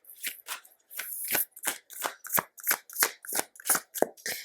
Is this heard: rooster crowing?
no